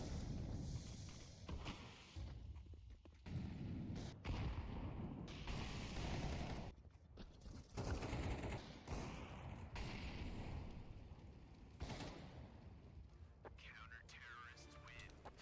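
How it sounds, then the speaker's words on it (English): Counter-Strike 2 match on Vertigo: a dense, continuous barrage of grenade blasts, smoke and flashbang pops and molotov fire, with repeated booms and crackles overlapping throughout, while a commentator talks over it. "Just check out all these smokes and nades and flashes and mollies."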